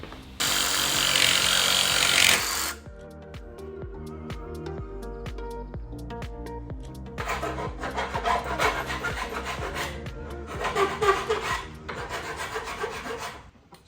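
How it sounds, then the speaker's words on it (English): A jigsaw cutting 90-degree angled aluminum about 23 inches long in a garage gives a loud, harsh buzzing rasp for the first few seconds, followed by quieter intermittent rattling and scraping. "So I'm just going to use a jigsaw to cut that."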